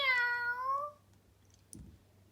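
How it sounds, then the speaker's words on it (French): A cat gives one clear, close meow that slides downward and fades, followed by a soft brief click. "Miaou."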